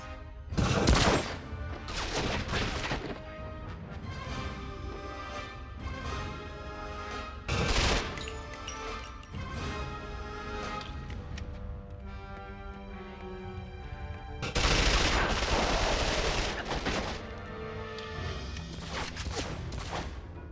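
Bursts of automatic gunfire and grenade blasts in the PS2 version of the 007 Quantum of Solace game at an eco hotel, repeated loud volleys with booming explosions over a tense orchestral music score.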